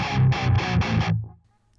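Heavy distorted electric guitar played through a Kemper Profiling Amp dialed toward a band's tone: four or five thick, chugging palm-muted bursts in quick succession, then a ringing tail that fades out.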